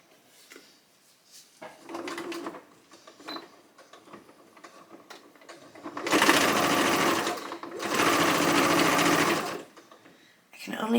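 A sewing machine stitching fabric for a homemade dog bed runs in bursts: a short run, then two long, loud, steady whirring stretches separated by a brief pause, with a person talking in between.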